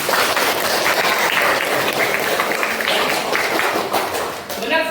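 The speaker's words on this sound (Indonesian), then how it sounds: "Nah, oke, tepuk tangan untuk Gloria" Classroom students clap for a classmate's answer, a dense, steady burst of many hands that runs for about five seconds before thinning slightly at the end.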